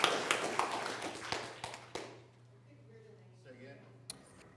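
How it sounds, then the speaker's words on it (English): Audience at an Oklahoma City Council meeting clapping in a few scattered bursts, then quieting as a voice speaks over a steady low hum, with one last sharp clap near the end. "the reason you can't hear the names is because you're applauding"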